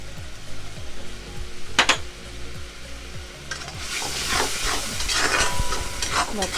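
Spice paste sizzles and hisses as it is stir-fried in a pan for a Bengali puti fish gravy, with a steady close fry under repeated scraping strokes of a spatula that grow louder and busier midway.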